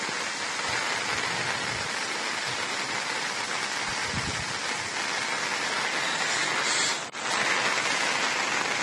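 Continuous heavy monsoon rain pours over the flooded Triveni Sangam at Bhagamandala in Kodagu, Karnataka, a dense, unbroken, loud roar of water with no voices.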